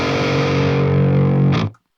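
An electric guitar runs through the Fredman Digital Fredhead amp sim at high gain, a thick distorted sustained chord ringing loud before a brief pick scrape and a sudden cutoff.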